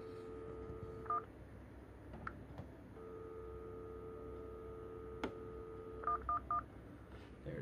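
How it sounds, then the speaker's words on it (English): Modem dialing out over a phone line, short bursts of telephone touch tones and a steady dial tone, faint and somewhat distant against a low background hiss. "if I turn the volume down here, you should be able to hear it dial out"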